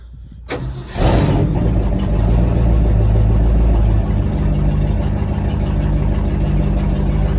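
A 1968 Ford F-350 engine cranks briefly and catches, then settles into a loud, steady idle with a deep low rumble that continues to the end, heard close and alone.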